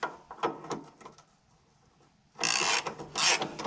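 Ratchet driving in a sway bar mount bolt with poly bushings, light clicks and scrapes at first, then two loud bursts of fast ratcheting close by.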